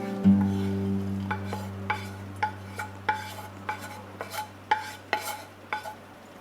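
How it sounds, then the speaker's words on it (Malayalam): Fried bitter gourd is moved from a pan into another vessel, with a spoon giving sharp clinks and scrapes roughly every half second over a low steady hum. "ഇനി ഞാനിത് വേറൊരു പാത്രത്തിലേക്ക് മാറ്റുകയാണ്."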